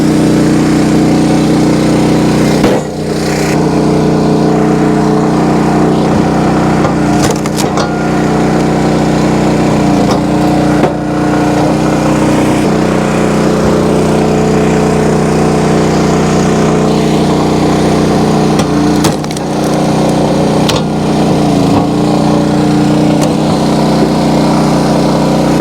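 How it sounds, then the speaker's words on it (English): An engine-driven vertical log splitter runs while splitting birch firewood. Its motor drones loudly and steadily, close to the microphone, with a few brief dips in pitch as it works, and no one talks. "I'm splitting with the engine running in the splitter"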